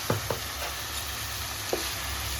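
A spoon scrapes a few times through chapati masala seasoned with chili powder in a frying pan: three brief, faint strokes spaced irregularly over a low, steady background hiss.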